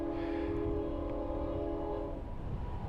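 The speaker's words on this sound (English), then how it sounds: "Now there's a train up there." A train passes near a road, its horn sounding as a sustained, steady tone over a low rumble, heard from a moving vehicle at moderate distance.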